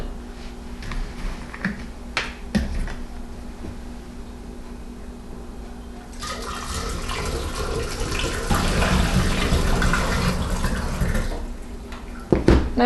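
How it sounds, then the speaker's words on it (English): Apple juice with dissolved corn sugar pours into a carboy for homebrew apple wine, a soft continuous splashing that grows fuller and louder partway through, with a few clunks near the end. "Okay, now this goes into the carboy with the other apple juice."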